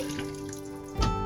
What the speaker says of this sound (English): I'm just gonna hold it like this until the bucket's full. I'm using this manual siphon.